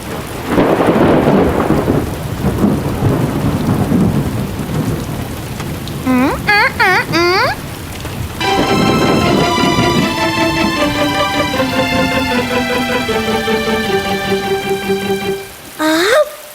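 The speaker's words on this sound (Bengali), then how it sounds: "বৃষ্টি এসে গেছে" A cartoon thunderstorm opens with loud, steady rain and rumbling thunder filling the first seconds. Brief chirpy cartoon calls follow, then a bright sustained musical melody plays over the fading storm.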